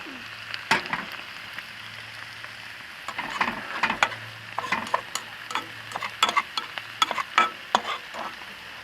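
Mince, mushrooms and a garlic and tomato sauce cooking in a pan at a fishing lake, a gentle bubbling sizzle broken by repeated sharp scrapes and clicks of a utensil stirring, with a low steady hum beneath.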